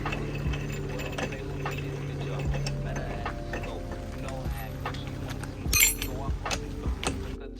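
A 32 mm axle nut on a Subaru BRZ or Scion FR-S is run down and torqued with a ratcheting wrench, giving a close run of rapid clicking pawl ticks, with one brief louder clank and faint talk.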